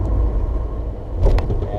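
Manual-transmission car engine, running steady and close, with a brief rise in revs around a shift up into fourth gear; the low rumble dominates throughout with no talking.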